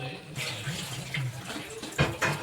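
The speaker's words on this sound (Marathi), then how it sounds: "पाणी टाकून घ्यायचं" Water is poured into curry masala in a pan for an egg curry, giving a steady close splashing trickle with a couple of stronger gushes near the end.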